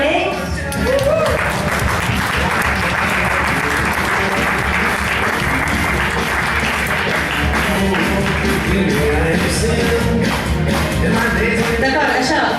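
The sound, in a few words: audience applause for the poet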